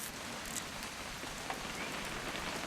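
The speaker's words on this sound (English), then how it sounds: "It's gonna rain the whole weekend, isn't it?" Steady rain pours down on a rural outdoor scene in What Remains of Edith Finch, a dense even patter of drops on surfaces with no pauses or voices.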